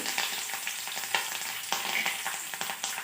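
Tempering spices and curry leaves fry in hot oil in a pan, a steady close sizzle punctuated by sharp crackles and stirring clicks.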